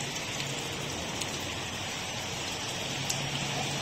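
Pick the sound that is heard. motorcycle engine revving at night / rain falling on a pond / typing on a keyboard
rain falling on a pond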